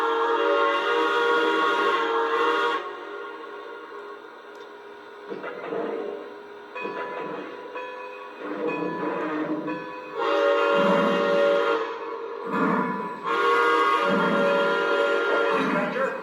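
A Lionel Legacy Santa Fe 4-8-4 Northern model steam locomotive runs around a layout with a continuous mechanical hum and whirring, swelling and fading in bursts, with clacking and rattling between louder stretches.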